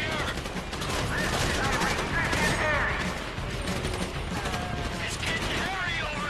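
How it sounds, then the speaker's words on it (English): Dense, continuous gunfire from a shootout in GTA 5, with rapid overlapping shots and bursts filling the whole stretch at steady loudness while game characters shout over it. "You hear that gunfire?"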